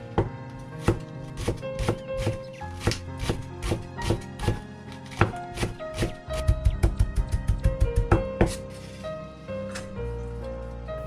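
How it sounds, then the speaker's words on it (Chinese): A knife chops green onions on a cutting board in a kitchen, crisp close knocks in an uneven rhythm that speed into a rapid run of mincing strikes before stopping. "葱花切完之后再剁一下，让葱花碎一点呢"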